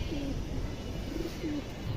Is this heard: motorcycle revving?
no